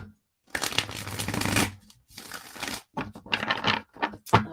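A deck of tarot cards is shuffled close up in several quick riffling bursts with short pauses between, crisp and papery, and no talking.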